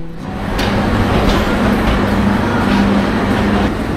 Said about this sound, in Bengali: ঠিক 6:10 আমাদের ট্রেন ছেড়ে দিল গাইবান্ধা স্টেশন থেকে